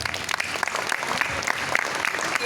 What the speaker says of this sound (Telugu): if you accept there should be a great round of applause